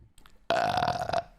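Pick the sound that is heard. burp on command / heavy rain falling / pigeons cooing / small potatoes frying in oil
burp on command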